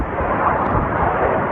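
A distant Iron Dome interception of a ballistic warhead: a broad, continuous low rumble with a dull, muffled blast texture sustained throughout, with no voices.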